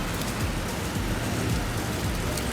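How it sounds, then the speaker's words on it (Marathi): Heavy rain pours down in Mumbai, a dense, steady hiss of drops beating on surfaces that stays constant and fairly loud throughout, with no voices. "पाऊस एवढा जोरात आलेला आहे"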